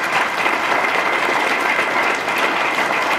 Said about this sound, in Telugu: వాళ్ళకు ఒకసారి గట్టిగా చప్పట్లు కొట్టాలి